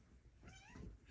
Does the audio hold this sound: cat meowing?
yes